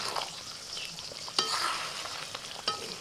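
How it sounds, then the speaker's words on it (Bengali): Chicken sizzles steadily as it fries in a pan and is stirred, a close, continuous crackle with a few sharp scraping strokes of the spoon against the pan, no talking. "একটু শুধু মিশিয়ে নিচ্ছি।"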